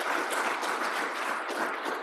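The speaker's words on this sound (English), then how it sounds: "Please, let's give a round of applause thanking all our panelists" An audience at a university economics panel applauds to thank the panelists, a steady wash of clapping at moderate level with no speech over it.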